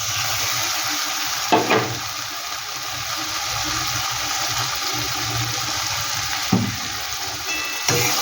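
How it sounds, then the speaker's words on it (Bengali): A spice paste of poppy seed and cashew with Kashmiri chilli powder is stir-fried in a pan, a loud continuous sizzle broken by a few sharp scraping stirs of a utensil. "মশলাটা কিন্তু আমি সুন্দর করে কষিয়ে নেব"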